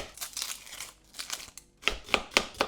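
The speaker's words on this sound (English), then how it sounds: "I am going to start here with a couple of onions and just going to roughly chop these" A knife roughly chops onions close by in quick, uneven cuts, with crisp crunching strokes coming faster toward the end.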